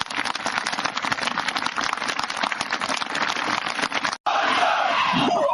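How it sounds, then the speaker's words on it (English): Dense applause and crowd noise at a Marine Corps recruit graduation at Parris Island, SC, a steady wash of many clapping hands that cuts out briefly near the end before resuming just as loud. "join me in a round of applause for the drill instructors and their families."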